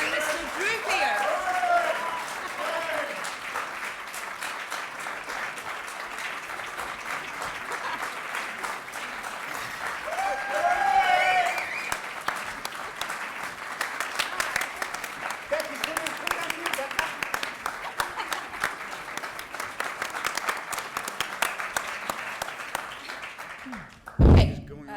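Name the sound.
audience applause at a press conference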